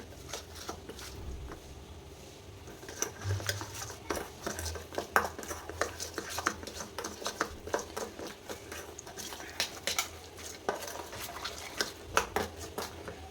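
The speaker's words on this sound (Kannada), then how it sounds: "ಒಂದು ಸ್ಪೂನಷ್ಟು ಆಯಿಲ್ ಹಾಕೋತಾ ಇದ್ದೀನಿ ಇಷ್ಟೇನೆ ಇವಾಗ ಚೆನ್ನಾಗಿ ಮಿಕ್ಸ್ ಮಾಡ್ಕೊತೀನಿ" Spoon scraping and tapping against a bowl while egg kebab mixture is stirred with a spoonful of oil, a steady run of close clinks and soft wet scrapes with no voice.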